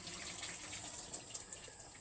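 Tap water runs steadily into a sink while tamban fish are being washed. The hiss and splash is close and continuous, with a few small splashes, and nobody speaks.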